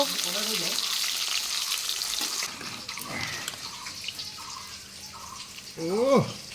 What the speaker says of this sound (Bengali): এই যে আজকে মাছ ভাজা ইঁচড়ের সাথে